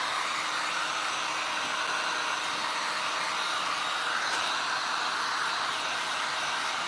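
A hair dryer blows steadily, drying paint on a piece of furniture, a loud, constant close-up whooshing hiss that holds unbroken throughout.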